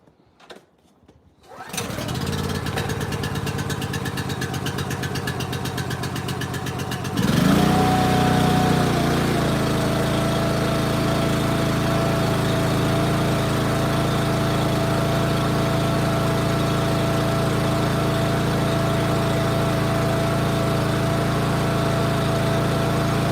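A gas engine on an EASTONMADE wood splitter catches after a quiet moment and settles into a steady, loud, close idle that runs on evenly, its pitch jumping briefly right after starting before holding level.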